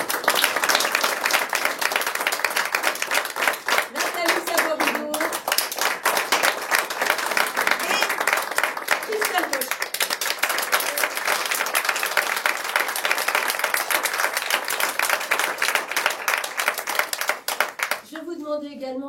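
A theatre audience applauds the cast of the play Oubliez-moi at the Théo théâtre, a long, dense, even round of clapping with faint voices calling out briefly and a louder voice rising at the very end.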